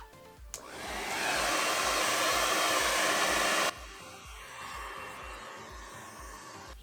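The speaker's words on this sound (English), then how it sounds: "You'll want to make sure that your hair dryer is on maximum heat" A hair dryer on maximum heat warming Bont skate boots for heat molding blows loudly and steadily, starts abruptly, then drops to a quieter, muffled whoosh partway through; a low rhythmic thump repeats underneath.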